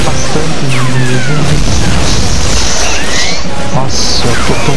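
Gunfire and explosions in the Medal of Honor Frontline video game form a loud, dense barrage of booms, crashes and whizzing shots, with someone talking over them.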